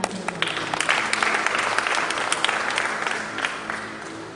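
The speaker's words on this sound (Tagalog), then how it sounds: "Palakpak po natin." Church congregation applauding at a Sunday sermon, a sustained dense round of clapping with scattered sharper claps standing out, fairly close and steady.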